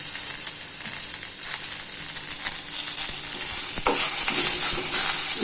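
Onion, tomato, garlic and ginger sizzle in a pan, a loud, steady frying hiss broken by stirring scrapes and clatters that grow busier toward the end.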